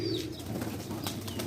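Pet pigeon giving a short soft coo close by, followed by light rustling and flutter.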